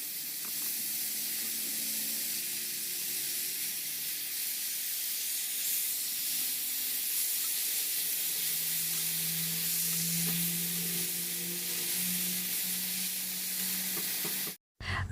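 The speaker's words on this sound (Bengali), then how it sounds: "এখন কচু ডাটাটা আমি দিয়ে দেবো এর মধ্যে দিয়ে ভালো করে একটু ভাজা ভাজা করে নেব" Taro stems frying in a wok, a steady close sizzle and steamy hiss with faint stirring, no talking, ending in a brief cut.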